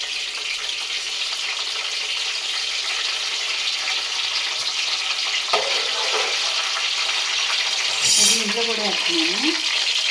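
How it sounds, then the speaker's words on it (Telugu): Fenugreek seeds frying in a pan for a fish curry give a steady, even sizzle throughout. There is a short rattle partway through and a brief burst of brighter noise near the end. "ఇక మెంతులు వేస్తున్నాను ఫస్ట్ మెంతులు వేసుకోవాలి"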